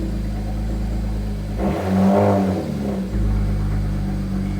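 BMW E92 335i engine running unevenly at idle after a 3.5 bar MAP sensor install, a steady close drone that surges into a brief rev and then settles back to its rough idle.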